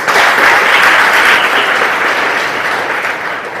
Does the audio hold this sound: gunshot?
no